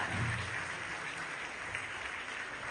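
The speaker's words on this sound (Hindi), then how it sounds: "सैयद अजमतुल्लाह हुसैनी साहब वक्फ बोर्ड चेयरमैन सर का इस्तकबाल कीजिए जोरदार तालियों के साथ" A crowd applauds steadily at a formal welcome ceremony, a dense wash of clapping greeting the Waqf Board chairman, with no speech over it.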